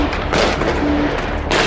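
Gunfire from news footage of the 7 January 2015 attack on the Charlie Hebdo offices, loud, dense and distorted bursts of shots and booms filling the whole stretch, with a heavy rumbling low end.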